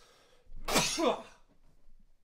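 A single loud, close sneeze bursts out in one sharp blast with no talking around it, heard during a gaming talk session.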